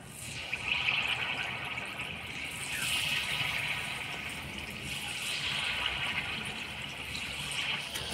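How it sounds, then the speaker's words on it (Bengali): Palm fruit fritters (taler bora) bubble in hot oil as a continuous, moderately loud hissing fizz that swells and eases slightly, with no voices. "তেলটা দেখেন ভালো করে গরম করে নিছি এবার পটাপট বড়াগুলো ভাজে নিব"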